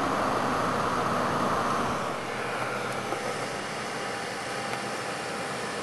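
A modded cooling fan in an Xbox 360 runs at 9 volts, giving a steady, close airy whoosh that eases slightly after the first two seconds and holds even.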